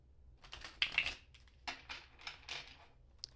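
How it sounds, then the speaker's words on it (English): Tarot cards shuffled in a series of quick soft riffles and slaps, close and fairly quiet, with a few brief bursts and no talking. "after having to shuffle the other decks, this is the easiest one to shuffle."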